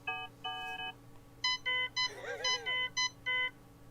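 A phone plays an electronic ringtone of bright repeated beeping tones in short bursts, with a warbling melodic phrase in the middle and a low steady hum underneath.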